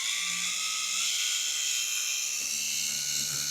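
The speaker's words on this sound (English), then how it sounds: "So a smaller polisher will definitely work better." A small car polisher on slow speed works over a wiper arm, giving a steady high whirring drone that stays even and loud throughout.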